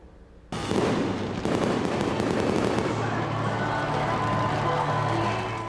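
Fireworks crackle and burst continuously at a distance, a dense spray of sharp pops and rumbling booms that start abruptly and keep going, with faint crowd noise underneath.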